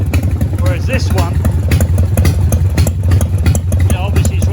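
A Harley Davidson Softail motorcycle engine, with the rear muffler not straight through, runs steadily at a low idle, a continuous rumbling throb with mechanical clatter throughout.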